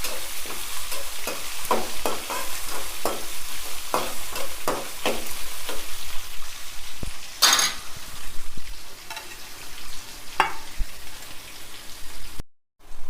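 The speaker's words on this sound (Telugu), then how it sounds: "ఉల్లిగడ్డ, ఎండుమిర్చి అన్నీ ఒకేసారి వేసేస్తాను. ఇవి కూడా దోరగా వేయించుకోవాలి." Onions and dried red chillies frying in a pan, a loud steady sizzle broken by repeated sharp spatula taps and scrapes against the pan at an uneven rhythm.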